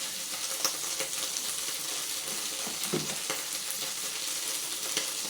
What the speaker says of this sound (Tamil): நல்லா முருகல் வர்ற அளவுக்கு கருவேப்பிலை நல்லா வறுப்படுத்துங்க